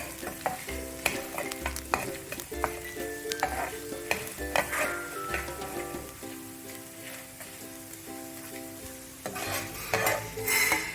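Dried red chillies frying in hot oil for a ridge gourd peel and raw mango chutney: a close sizzle under clinking and scraping of a utensil against the pan, with intermittent clatter and a brief tonal ring.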